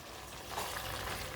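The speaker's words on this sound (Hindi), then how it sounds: "अब इसमें 1 गिलास पानी डाल लेंगे।" A glass of water is poured into a hot pan of turnip and spinach sabzi, making a broad, steady hiss and sizzle that swells partway through and carries on to the end.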